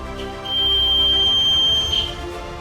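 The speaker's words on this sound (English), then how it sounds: "Did you hear the buzzer ringing and the light flashing? It's the security system." A piercing high-pitched electronic buzzer from a school science-project security system sounds continuously for about two seconds, loud and close, then cuts off.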